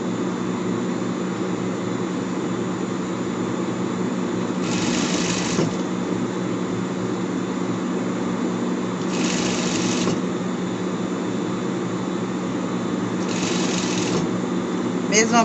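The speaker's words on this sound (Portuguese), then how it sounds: "E vamos costurando aqui, tá?" A sewing machine stitches a pet shirt with a continuous close mechanical whir that holds steady throughout, broken by three short higher-pitched bursts at regular intervals.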